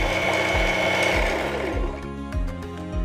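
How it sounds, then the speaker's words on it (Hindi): An Usha Janome Dream Stitch electric sewing machine winds thread onto its bobbin, a close, steady motor whir with a rapid regular mechanical pulse that slows and softens near the end, with no talk. "यहाँ पे बॉबिन का पूरी फिलिंग हो रही है थ्रेड से"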